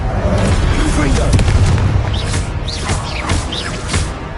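Confringo blasting curse explosions in Hogwarts Legacy, loud booming bursts with crackling debris repeating every half second or so amid other spell effects and a busy game soundscape.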